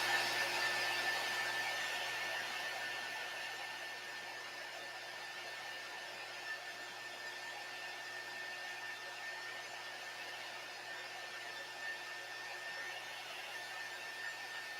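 A heat dryer blows over chalk paste on a pallet board, a faint, steady airy whir with a thin constant whine that runs unbroken throughout, with no talking.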